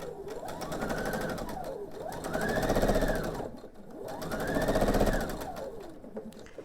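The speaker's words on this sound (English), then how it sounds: "Let's start sewing this pair together." A sewing machine stitches quilt pieces together in three rapid mechanical bursts, each rising and falling in speed with brief pauses between. The whirring is close and loud, and no one talks.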